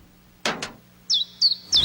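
Bird chirping in a short run of three bright, high tweets near the end, after a pair of soft thumps, with no talking.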